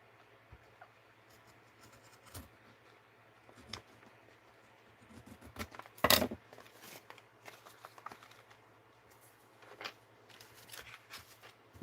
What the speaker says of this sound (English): Yeah, I need to snip this off.